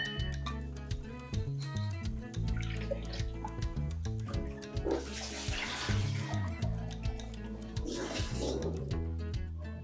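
A mixer jar rinsed and water poured into a pan while cooking a bitter gourd masala: running, splashing water with drips and clinks of the jar, close, in uneven bursts with no talking.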